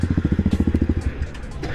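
A motorcycle engine idles with a rapid, regular low throb, then the pulsing fades out as the bike is parked on a sloped lot, leaving quiet background noise.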